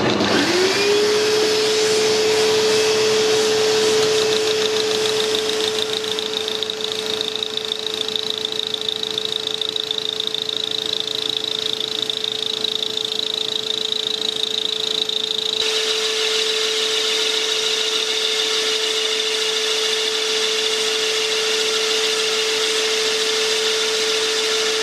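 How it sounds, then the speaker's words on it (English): A vacuum cleaner runs continuously during gear machining, a loud steady drone with a sustained tonal whine that holds unchanged for the whole stretch, close to the listener. "It's going to be noisy because I'm going to run the vacuum"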